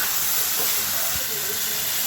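Beef tripe fries dry with a spice mix in a pan, giving a steady, close sizzling hiss that holds evenly throughout without breaks.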